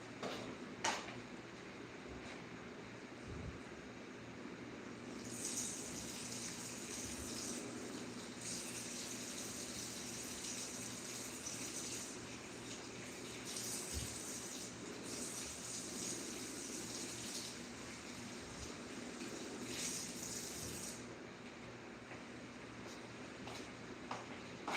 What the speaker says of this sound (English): Gotta rinse out tomatoes.